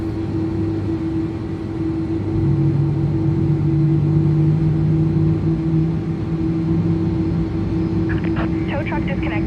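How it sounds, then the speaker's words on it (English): A steady low engine drone rises and builds in pitch as the left jet engine of an A300 airliner spools up in a flight simulator, with a voice speaking near the end. "On the left side, you'll hear the engine come up."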